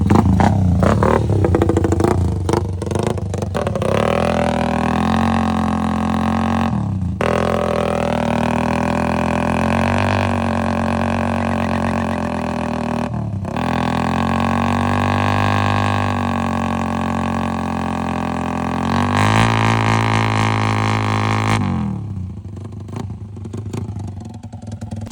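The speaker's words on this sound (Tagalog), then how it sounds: "Motor ko. Motor ni Chano." A Honda Wave motorcycle engine revs and drones steadily up close, with pitch rising and falling through several throttle bursts, then drops away near the end.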